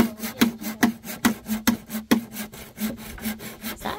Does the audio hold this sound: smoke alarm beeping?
no